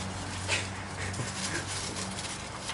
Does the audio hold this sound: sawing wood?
no